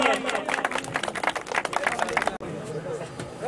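A crowd at a boys' college annual sports festival claps for a winning pair, a lively burst of many hands. Chatter and shouting mix in, and the clapping briefly drops out before picking up again.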